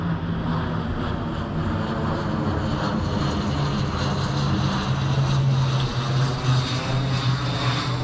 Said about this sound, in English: That's a odd sounding plane.